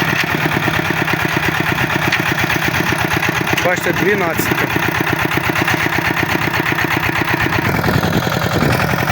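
A small walk-behind tractor engine ploughing in light drizzle chugs steadily up close with a rapid, pulsing rhythm while someone speaks briefly over it.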